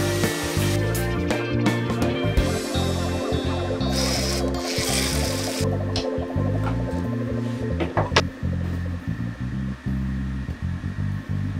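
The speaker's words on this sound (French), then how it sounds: "on va bien poncer les bords pour bien casser les arêtes, histoire que ce soit pas coupant" Sandpaper rubs steadily along the edges of a wooden Montessori play gym, a continuous close rasping that runs without pause and shifts slightly in texture near the end.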